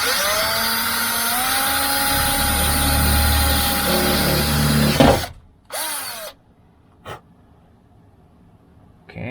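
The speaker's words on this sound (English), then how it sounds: "you got to drill a hole in this to put the wires through" Power drill boring a hole through a Toyota Tacoma tailgate, a loud continuous whirring drone for about five seconds, then stopping abruptly, followed by a few short bursts and near silence.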